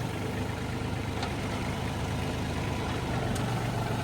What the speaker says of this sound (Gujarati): શૈલેષભાઈનું ટ્રેક્ટર છે, મેસી ફર્ગ્યુસન 28 HP,